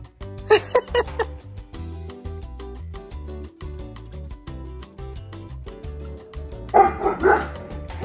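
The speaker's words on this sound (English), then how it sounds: "He wasn't barking to be mean." A dog gives two short clusters of sharp barks, near and loud, over a steady thumping music track.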